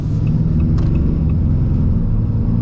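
2026 Ram AEV Prospector XL pickup driving, a loud, steady low engine and road rumble from inside the cab with faint higher clicks, no speech.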